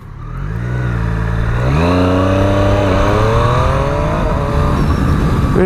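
A 2017 Triumph Street Triple RS motorcycle engine revs up loudly and close, its pitch climbing smoothly through a sustained acceleration before holding a steady high-revving drone.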